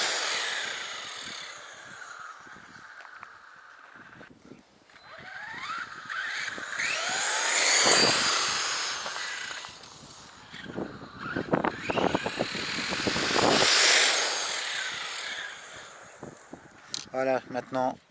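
A Scorpion RC car's electric motor whines at half its top speed, rising and falling as the vehicle passes close by and pulls away twice, with someone talking intermittently between the passes.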